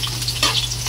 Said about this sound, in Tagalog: nagigisa na po si tita